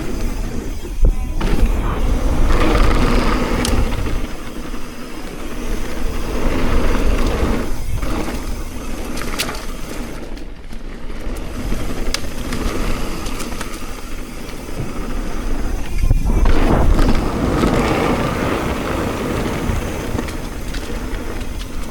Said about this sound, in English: let's take this new Forbidden Druid CorE down my favorite trail here